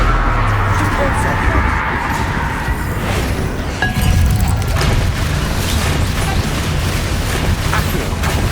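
Spell effects from Hogwarts Legacy, including a Repulsor cast, sound out as dense booming, rumbling magical bursts with mechanical clatter over a loud continuous game soundscape, with no clear gaps.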